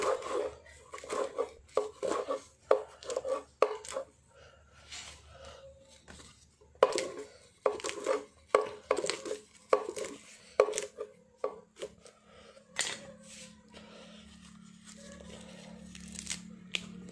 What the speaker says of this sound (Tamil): துண்டு துண்டாக பொடி பொடியாக நறுக்க போகிறோம்